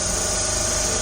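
An electric motor runs steadily at constant speed, around 1500 rpm, during a laboratory load test, giving a continuous even hum with a rhythmic low pulsing throughout and no voices.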